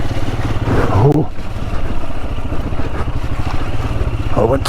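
Royal Enfield Himalayan motorcycle lugging in too high a gear on a muddy green-lane track, a steady low engine thrum with wind buffeting the microphone throughout and a brief vocal murmur.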